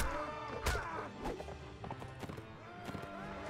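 Horse hooves clip-clopping in the video game Mount & Blade Warband, mixed into busy battle noise with clanks and faint whinnies, moderately loud and continuous throughout.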